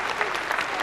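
Audience applause fills a television studio during a recorded discussion, a dense, steady wash of many hands clapping at close range with no break.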